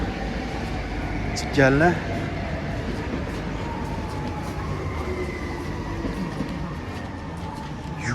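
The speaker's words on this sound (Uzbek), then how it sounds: "Bizni poyezd o'tib ketdi shekilli." A train passes at a station in Barcelona as a steady low rumble and rolling drone, with a brief tonal squeal near the start and people talking over it.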